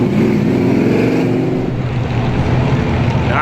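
Strictly Stock cars roar through a heat race at Star Speedway, a loud, continuous engine drone close by with shifting pitch as the field gets back up to speed under a race announcer's voice.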